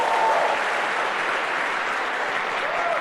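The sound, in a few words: audience applause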